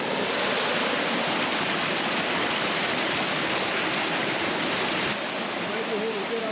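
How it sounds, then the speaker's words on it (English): A mountain creek crossing on a backpacking trail in a wilderness area, the water rushing in a loud, continuous broadband roar close by, with a brief voice faintly underneath. "Second creek crossing in the morning."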